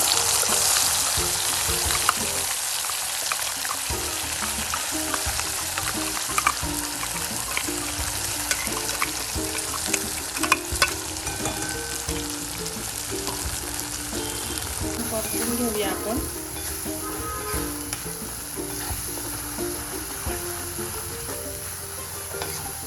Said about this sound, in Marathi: आता ह्यामध्येच आपण मिक्सरमध्ये जो बारीक केलेला मसाला आहे तो घालून घेऊया